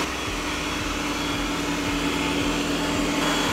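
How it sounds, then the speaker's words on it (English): A Yeedi robot vacuum vacuums and mops a floor at once, producing a steady, close motor whir with faint rhythmic thumps of brushes running underneath. "I think it's vacuuming and mopping at the same time"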